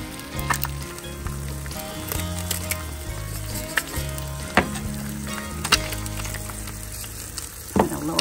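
An egg sizzles steadily in a cast iron pan on board a boat, a close continuous frying hiss broken by occasional sharp taps and scrapes of a utensil against the pan.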